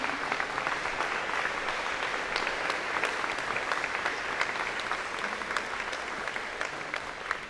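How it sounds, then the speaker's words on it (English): A crowd at a university convocation applauds continuously, a dense steady patter of many hands clapping at an even level from start to finish. "let's give them a big round of applause"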